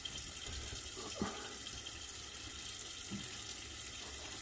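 Tap water runs steadily into a sink while shaving suds are rinsed away after a wet shave, a continuous close hiss with a couple of faint knocks and no talking.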